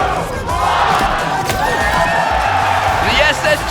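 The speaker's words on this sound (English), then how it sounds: "The SSG crowd like what they're seeing, and why wouldn't you?" SSG fans roar and cheer at a live Halo esports championship event, a loud, sustained crowd din with whoops rising near the end and a commentator talking over it.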